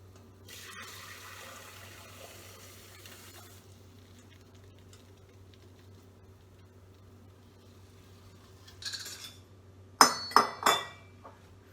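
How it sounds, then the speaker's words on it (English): Hot coffee concentrate poured from a pot through a strainer into another pot: a soft watery trickle early on, then a short splashing pour and a few sharp metallic clinks near the end, fairly quiet with no talk. "I use another pot with a strainer on the top. I'm gonna pour it out."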